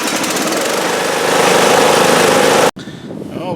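Riding lawn mower engine with a replaced starter solenoid running loud and steady for nearly three seconds, then cut off abruptly before a brief, quieter restart.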